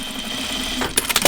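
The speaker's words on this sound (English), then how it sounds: "I'm going to try and fake it a little bit with my top stitching." A domestic sewing machine top stitching a homemade pajama top, a low steady hum followed by a short burst of quick mechanical needle clatter near the end, close up with no speech.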